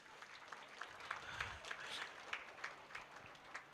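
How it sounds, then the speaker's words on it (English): An audience at a Model United Nations event applauding, a soft continuous patter of many hands clapping at moderate distance, fairly faint, with no one talking. "there has to be a big round of applause for each and everyone."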